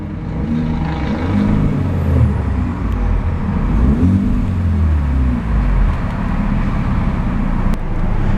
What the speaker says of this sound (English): A much deeper and much more bassy rumble from that 2-liter 4-banger.